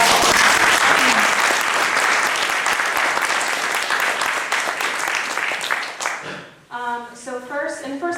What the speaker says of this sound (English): Let's have a general round of applause.